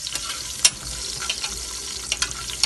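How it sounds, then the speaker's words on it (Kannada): Green chilli, ginger and garlic roast in a pan with a soft, steady sizzle, broken by a few light clicks and scrapes from stirring. No talking. "ಆಮೇಲೆ ಗಾರ್ಲಿಕ್ ಇಷ್ಟನ್ನು ಹಾಕ್ಕೊಂಡು ಸ್ವಲ್ಪ ರೋಸ್ಟ್ ಮಾಡ್ಕೋಬೇಕು"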